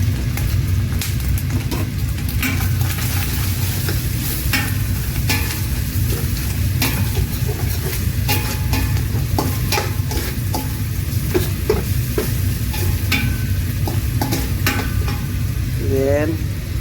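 Garlic sizzles steadily in a hot pan for a Kapampangan corn soup, with a continuous frying hiss and repeated scraping strokes of a utensil throughout, loud and close, with no talking.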